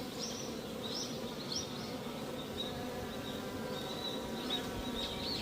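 Honeybees buzz around their hives in a soft, continuous hum, with small swells as individual bees pass closer, faint and steady with no voices.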